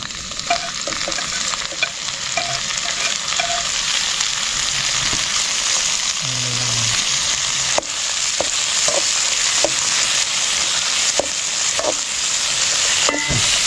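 Onions and tomatoes sautéing in a pan on an outdoor forest cooking fire in rain, a steady loud sizzle running throughout with intermittent scraping stirs and light clinks, no talk.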